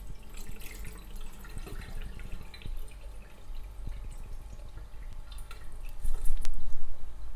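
Rice being washed in water in an ordinary pot, with splashing, dripping and sloshing as grains are stirred, close and moderately loud, the swirling growing stronger toward the end.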